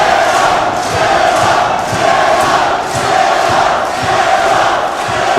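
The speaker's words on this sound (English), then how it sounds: "This whole crowd wants to see it." Wrestling arena crowd during a rumble match, a loud, sustained roar of cheering and yelling with rhythmic swells, filling the whole stretch with no clear speech.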